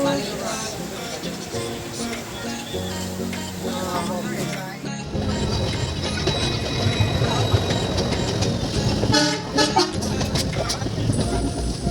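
A passenger train on a journey from Guwahati to Bokakhat pulls away and runs, its rumble and rattle rising steadily and continuing loud and close, with voices and chatter from the carriage mixed in over it.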